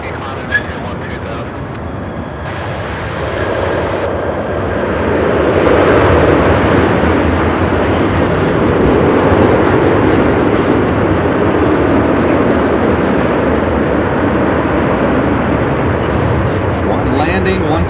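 Boeing 737 airliners landing and taking off at Charlotte Douglas airport make a loud, sustained jet roar that swells and holds steady for many seconds, with a steady rumble and hiss underneath.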